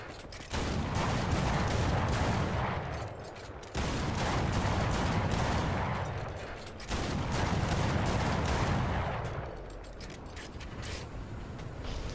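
Aircraft guns in War Thunder fire in three long, dense bursts of rapid rattling gunfire, loud and close, separated by brief gaps, with mechanical clatter between them.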